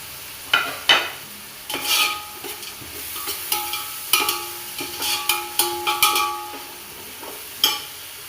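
Onions frying with curry leaves and coriander in a pan, a soft sizzle broken by repeated clinking, scraping stirs at an uneven pace, close and fairly quiet, with no talking.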